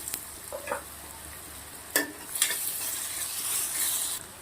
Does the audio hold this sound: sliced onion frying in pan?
yes